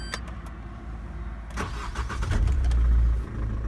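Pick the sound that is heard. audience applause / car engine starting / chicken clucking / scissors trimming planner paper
car engine starting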